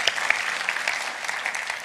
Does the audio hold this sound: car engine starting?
no